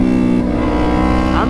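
A loud, steady engine drone from a straight-piped Yamaha R3 motorcycle with a deep rumbling exhaust note, continuous throughout, rising briefly in pitch near the end.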